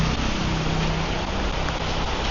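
Rain pours down on a rainy morning street walk in Samkong, Phuket, Thailand, a steady dense hiss with no break, close and loud, over a faint low hum.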